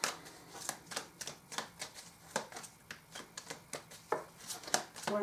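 Tarot deck being shuffled and dealt by hand, a quick run of crisp card riffles and snaps in an uneven rhythm, close and fairly quiet, with no talking over it.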